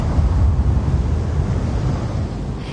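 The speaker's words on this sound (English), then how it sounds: "There's a vertical thrust." Vertical thrust from spacecraft engines makes a loud, steady, broadband roar that holds constant throughout, rough and windy in texture, with no voices.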